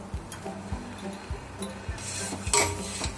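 A spoon stirs paruppu payasam (lentil pudding) in a pot with repeated scraping strokes and light metallic clinks, close and fairly steady, ending in a sharper clink.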